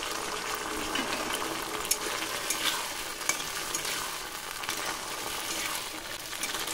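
A chicken ball sauce of soy sauce, tomato sauce and chopped tomatoes bubbles and sizzles quietly in a pan while a spoon stirs through it, giving faint clicks and scrapes and no talk.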